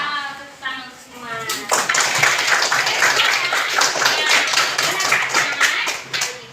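Schoolchildren in a classroom clapping their hands, starting after a teacher's voice and continuing as dense, rhythmic, loud clapping mixed with children's voices.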